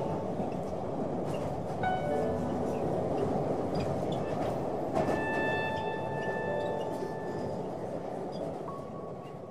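A subway train running, with a steady close rumble of wheels and car noise throughout and faint high wheel squeals and tonal whines in the middle.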